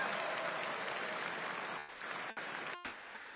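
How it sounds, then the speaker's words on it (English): Applause from a political fundraising dinner crowd, a dense sustained patter filling the room that thins out near the end with a few separate claps. "Round of applause."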